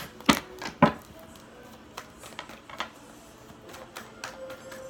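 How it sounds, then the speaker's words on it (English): Tarot cards being shuffled by hand, with two sharp riffling bursts at the start followed by softer, scattered taps and flicks of the deck, close and without talk. "One more shuffle."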